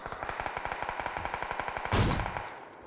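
Rapid automatic gunfire in PUBG rattles in an even, fast rhythm for a couple of seconds, then a louder blast booms near the end.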